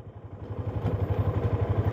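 A motorcycle coasting downhill in neutral, its engine idling in a steady low, pulsing throb with faint mechanical clatter, close and continuous throughout.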